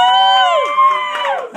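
A live comedy club audience cheers and whoops loudly, with sustained voices rising and falling over about a second and a half before fading out.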